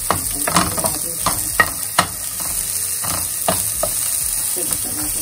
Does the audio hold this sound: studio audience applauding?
no